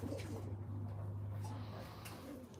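Large pigeons at a loft give steady low cooing calls nearby, quiet and continuous, with a faint voice and a steady background hum.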